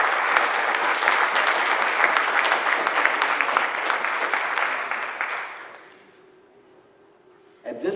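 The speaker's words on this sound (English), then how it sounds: "So can we give Tristan a round of applause?" Audience applause at a school board meeting, a dense sustained clapping from a crowd that holds steady for about five seconds, then fades out and leaves near silence before a brief sound at the end.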